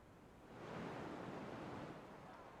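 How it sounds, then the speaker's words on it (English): A small cascading waterfall in a Roman city-building game gives off a steady, soft rushing wash of water that swells slightly and then holds even, quiet and continuous, with no voices. "We got the little waterfall."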